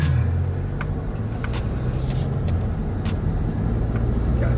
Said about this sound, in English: when you try to accelerate in eco mode, it's like you're a kid who thinks he's fast, but he's actually really slow